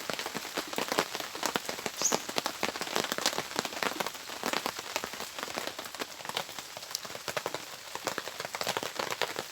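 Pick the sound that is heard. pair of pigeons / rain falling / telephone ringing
rain falling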